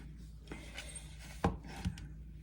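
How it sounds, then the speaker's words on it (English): A knife cuts through dough for Christmas baking, giving two soft, distinct thuds against the board amid quiet kitchen background hum, with no talking. "Okay, so we're going to slice it all the way through now."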